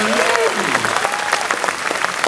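Audience applauding an executive leadership team at a cruise line's company session, a dense, steady wash of clapping across the whole stretch, loud and continuous without a break.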